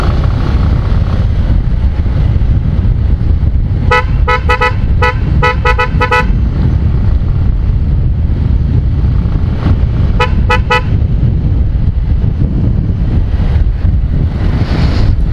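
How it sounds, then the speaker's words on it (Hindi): A dual-tone motorcycle horn sounds in short bursts while riding, one rapid cluster of toots and then a briefer pair, over constant wind and road rumble. "हॉर्न का मजा लेते हैं"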